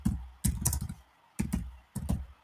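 Short bursts of typing on a computer keyboard, three quick clusters of clicking keys separated by brief pauses, close and clear with no voices.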